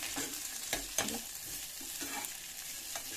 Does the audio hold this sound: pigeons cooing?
no